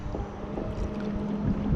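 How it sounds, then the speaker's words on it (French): Strong wind gusts across open water during a float tube outing, producing a low, rumbling buffeting that swells slightly toward the end, with no speech. "Là aujourd'hui il y a beaucoup de vent"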